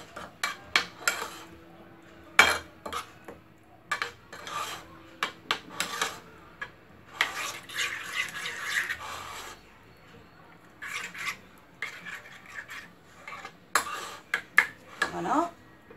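Stuffing mixed with parsley for stuffed peppers is worked in a bowl, giving intermittent scraping and rubbing clinks of a utensil against the dish, close and quiet with pauses between strokes.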